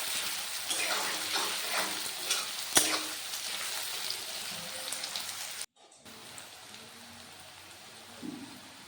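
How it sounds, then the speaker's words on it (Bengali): Bay leaves and onion frying in hot mustard oil in a kadai give off a dense, crackling sizzle. A sharp clack sounds partway through, then a brief cut to a quieter, steadier fry with a soft scrape. "সর্ষের তেল গরম করে তেজপাতা আর পেঁয়াজটা ভেজে নিচ্ছি"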